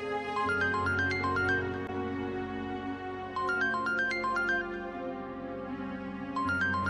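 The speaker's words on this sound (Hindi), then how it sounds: "देखो किसका फोन है।" A mobile phone ringtone plays a repeating bright melodic phrase three times, moderately loud over a low background hum, with no voices.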